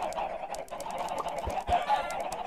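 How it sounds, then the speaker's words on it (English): Chickens in a video game cluck repeatedly in short, evenly spaced bursts over a constant background hum, moderately loud and close. "Those chickens are really laggy."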